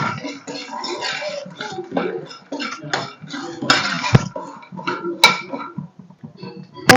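A spoon scrapes and clinks in a metal pan while peanuts are tossed with chili powder and salt, irregular rattling and scraping strokes, close and fairly loud, no talking.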